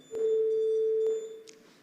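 A school's quiz contest buzzer gives a single clean electronic beep lasting about a second, followed by a faint click in a quiet room.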